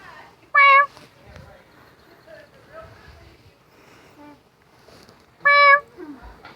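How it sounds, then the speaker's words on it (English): Two short, bright barn cat meows, one early and one near the end, close by, separated by quiet rustling and faint background voices. "This is a bone cat, everyone."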